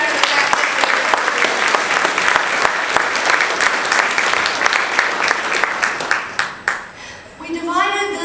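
Audience applause fills a hall, a dense steady clapping from many hands that thins and fades out toward the end.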